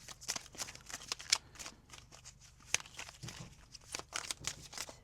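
Oracle cards are shuffled and drawn, a run of quick crisp riffling bursts and soft slaps, close and fairly quiet, with occasional light taps between them.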